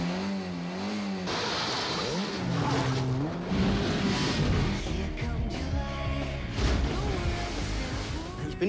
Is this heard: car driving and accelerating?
yes